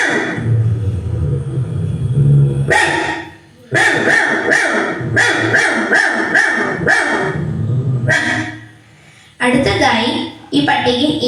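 A girl mimics a big dog barking, voicing a series of deep, loud, rough barks in close bursts with brief pauses between them, delivered alone without other talk.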